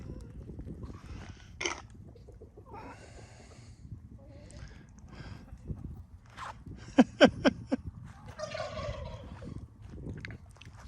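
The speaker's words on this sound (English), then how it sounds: "The chickens love the kernel." Chickens feeding on corn kernels give scattered clucks and short gobbling calls, with a few louder sharp bursts and some shuffling noise close by; no talking.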